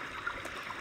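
Flowing stream ambience played back through a MacBook's speakers, a steady soft wash of trickling water with no breaks, quiet and even throughout.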